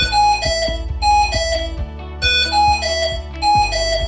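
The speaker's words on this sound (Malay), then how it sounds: "Penggera keutamaan tinggi adalah urutan 5 bunyi bip yang berulang" Hamilton C1 ventilator high-priority alarm sounding a repeating sequence of loud electronic beeps in tonal bursts, cycling through several notes with brief pauses between groups, with no voices.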